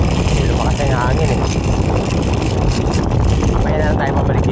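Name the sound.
strong wind over boat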